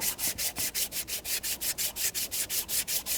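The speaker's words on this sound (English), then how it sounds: "That's why I use a real fine grit emery cloth." Fine-grit emery cloth rubs back and forth on an aluminum throttle body surface on a 2014-2019 Toyota Corolla 1.8L, a quick, even run of about fifteen raspy strokes, close and alone.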